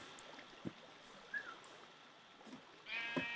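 Minecraft sheep bleating in the game, a few short faint bleats spread across a quiet stretch with light background noise and no talking.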